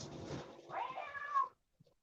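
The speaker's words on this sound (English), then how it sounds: "I hear a kitty cat." A cat gives a single drawn-out meow that rises and then falls. It is fairly close and clear, followed by a short silence and faint room noise.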